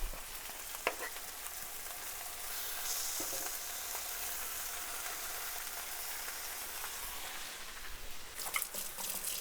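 Meat frying in oil in a pan sizzles steadily and crackles throughout, with occasional spoon scrapes and clinks as it is stirred.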